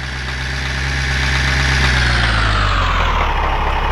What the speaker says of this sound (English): We're going to call a fuel truck.